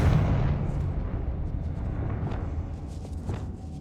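A Confringo spell explosion in the Hogwarts Legacy video game bursts as a loud, rumbling blast that fades over a few seconds, with faint crackles trailing behind it.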